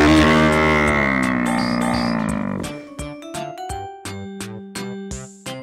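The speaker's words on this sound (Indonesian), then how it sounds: "Seperti ini suara banteng." Banteng wild cattle call: a long, loud, drawn-out lowing bellow over the first few seconds, followed by a rhythmic run of short percussive tones, with no talking.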